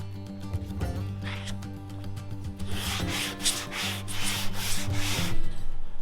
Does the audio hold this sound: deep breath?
no